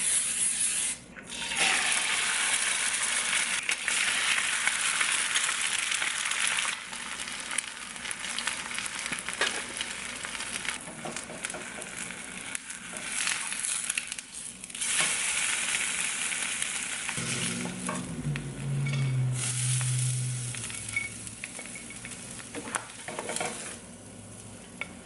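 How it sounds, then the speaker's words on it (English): Bacon cooks in a running air fryer, giving a continuous close, moderately loud hiss and sizzle with brief rustling bursts and a low hum partway through. "So I got the air fryer going on for the bacon."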